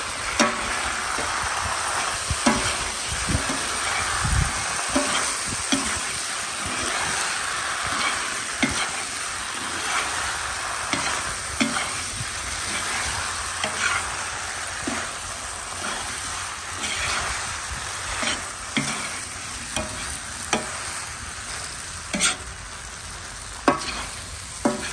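Ukrainian goulash with peppers being stirred in a hot pan, a steady sizzle and frying hiss broken by repeated scrapes and clinks of the utensil against the pan, close and fairly loud with no talking.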